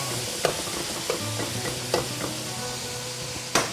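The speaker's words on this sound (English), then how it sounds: "let it cook off a little bit. Mix this up." Two pounds of ground meat cook in a pan with a constant close sizzle, while a utensil scrapes and stirs it in several separate strokes.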